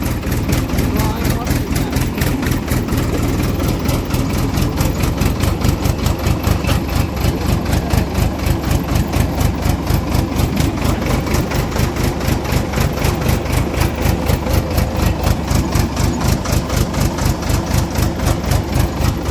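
A tractor engine idles close by in a steady, loud, rhythmic chug that holds evenly throughout, with someone speaking over it.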